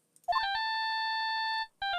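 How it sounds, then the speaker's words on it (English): Phone ringtone from the Ace Attorney video game playing a Bach melody: a bright electronic tune of steady repeated beeping tones, loud and clean, cutting off briefly before starting again, with no talking. "Oh, that ringtone."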